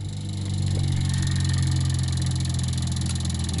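A small pulse motor driven by a two reed switch circuit spins up, a steady close hum with a rapid regular pulsing whir that holds level throughout, no talk.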